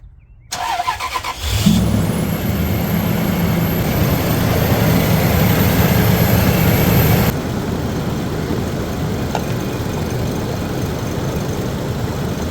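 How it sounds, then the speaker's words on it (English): A Toyota Tundra pickup engine with an overheating problem cranks and catches, then idles loudly with a high whine, settling into a steadier, quieter running rumble. "turn on the truck."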